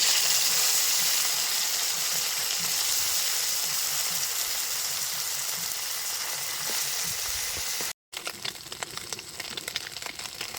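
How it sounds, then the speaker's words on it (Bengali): Small chela fish sizzle steadily in hot oil in a village kitchen, a loud, dense hiss throughout that briefly cuts out near the end and resumes with crackling pops. "এই তেলের মধ্যেই চেলা মাছগুলো ভাজে নেবো"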